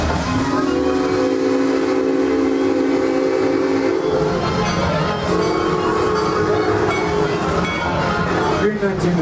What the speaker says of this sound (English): we are actually traveling under steam power